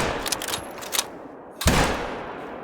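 A sharp rifle shot fired at a whitetail deer in the hunting game theHunter: Call of the Wild on the Rancho Del Arroyo map. Faint clicks and rustles come first, then one loud crack with a trailing echo, and no one speaks.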